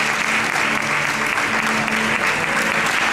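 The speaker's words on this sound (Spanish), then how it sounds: "aplausos, muchos aplausos." A packed audience claps loudly and continuously, a thick, even wash of applause with no pause throughout.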